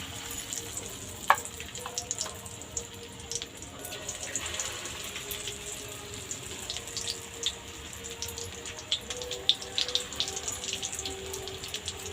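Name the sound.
chicken pakora frying in oil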